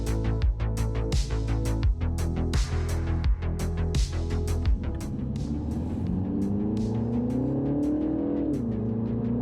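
A car driving, heard from inside the cabin, with a steady engine hum and a series of repeated clicks or knocks over the first half. The engine then rises smoothly in pitch as the car accelerates, loud and close.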